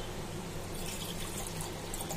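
Water pours into a cleaned glass jar being readied for chilli pickle in kanji brine, a soft continuous trickle with no break and no talking.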